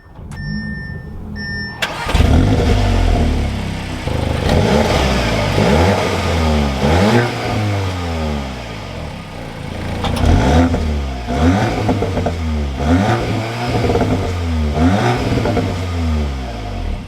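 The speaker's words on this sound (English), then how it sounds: "So let's fire up this S3" A chime sounds, then a 2023 Audi S3 Premium Plus engine cranks and fires up, followed by a series of sharp revs that climb and fall repeatedly before settling.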